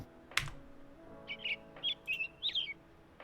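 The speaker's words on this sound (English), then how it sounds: "disconnect so we don't have to listen to the birds chirping." Several small bird chirps come in short bursts at a steady rhythm, faint and fairly close, over a quiet background with one sharp click near the start.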